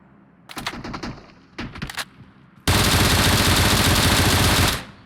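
Sustained automatic gunfire sprays a balcony in PUBG Mobile, a long loud unbroken burst following a few earlier short volleys of shots.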